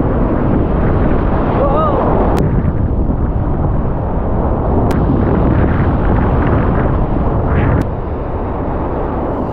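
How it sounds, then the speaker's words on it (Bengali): Loud, continuous roar of sea waves breaking at Bakkhali beach, towering surf rushing and crashing close by with heavy wind buffeting, a few sharp clicks cutting through the steady wash. "এই দেখো ঢেউ ঢেউ"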